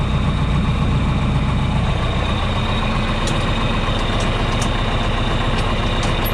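A compact diesel tractor, a Kubota L2501 or John Deere 2520, idles while warming up before snow clearing. Its steady, close, low engine rumble runs unbroken, with a few faint high clicks.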